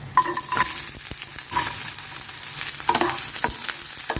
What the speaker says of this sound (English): Fry until golden.